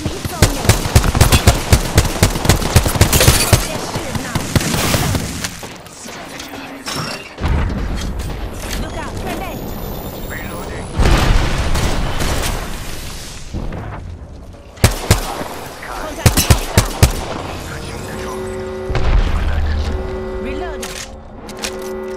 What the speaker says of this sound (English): They're shooting now.